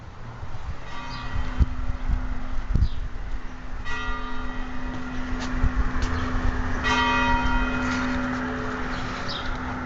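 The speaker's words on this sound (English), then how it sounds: "We hear the church bells." Church bells tolling seven o'clock heard outdoors beside the C&O Canal near the Conococheague Aqueduct, fairly distant strikes ringing out over steady wind and rustling with no talk.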